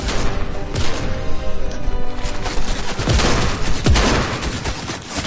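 Dense machine-gun fire sprays toward the player in a fast arena shooter, continuous loud rattling volleys with a couple of sharper impacts near the end.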